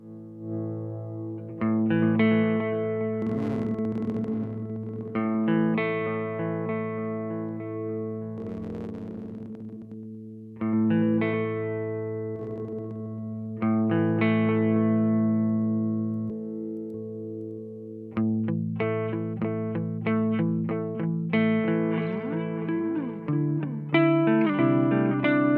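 Guitar played through a DemonFX reverb and delay workstation pedal, sustained notes and short phrases trailing off in echoing delay repeats with a reverberant wash, steady and upfront with brief pauses between phrases.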